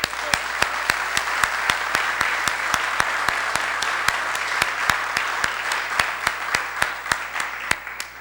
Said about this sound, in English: I'd like to begin by offering a big round of applause for all these candidates for making this sacrifice